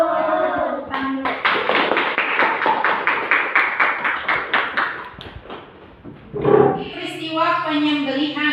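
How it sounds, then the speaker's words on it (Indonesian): A classroom of students clap their hands together in a quick, steady rhythm for several seconds, then the clapping stops and voices follow. "Ya, kasih tepuk tangan dulu."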